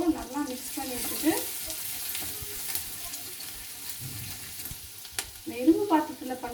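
Okra fries in an iron pan with a moderate sizzle and intermittent stirring scrapes and clanks. Background tonal sounds drift through at a low level.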